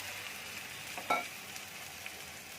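Turmeric and cumin powder with a mustard, chilli and poppy seed paste frying in oil, a faint steady sizzle with one brief clatter of stirring near the middle and no talking.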